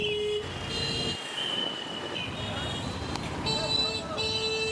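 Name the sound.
train at railway station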